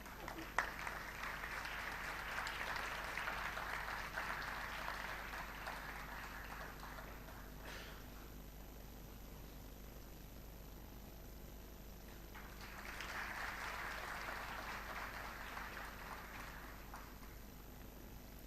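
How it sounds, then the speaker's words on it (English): A graduation and convocation audience claps in two soft, distant bursts of applause separated by a quieter lull, heard faintly in a large hall. "A big round of applause."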